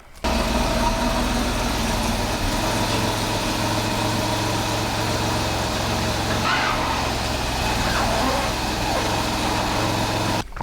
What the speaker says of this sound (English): I'm gonna move the car out now.